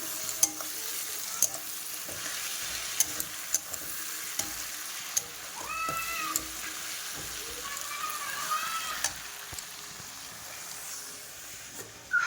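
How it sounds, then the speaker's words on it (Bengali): Onions fry in a pan in a home kitchen, giving a continuous soft sizzle with occasional clicks and scrapes as they are stirred. Faint background sounds come and go. "আর এদিকে পেঁয়াজটা ভাজা করা হচ্ছে"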